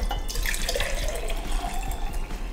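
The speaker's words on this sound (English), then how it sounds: "so we're ready to pour it in" Cooled rock candy sugar solution pours steadily into jars, a continuous liquid splash and trickle lasting a couple of seconds with no talking.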